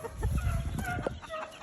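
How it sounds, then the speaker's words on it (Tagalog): Fighting roosters cluck and crow in a busy flock, with overlapping calls close by over rustling and movement. "Ito mga manok. Dami oh."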